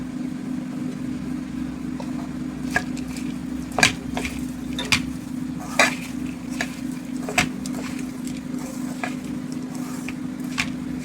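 Mustard oil poured into a pan of lentils seasoned with salt and turmeric, giving a steady sizzle over a constant low hum, with occasional clinks and scrapes of a spoon against the pan.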